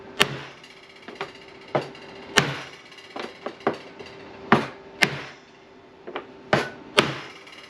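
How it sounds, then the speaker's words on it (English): Sharp hammer blows strike a block at irregular intervals, some hard and ringing, others lighter taps, close by with a steady low hum underneath. "use a block or something and try to hammer it down"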